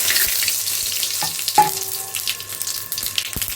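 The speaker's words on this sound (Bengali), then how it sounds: "ফোড়ন দিয়ে দিচ্ছি।" Spices for tempering hit hot oil in a pan for a vegetarian potato and cauliflower curry, giving a steady close sizzle with a few sharp crackles and pops.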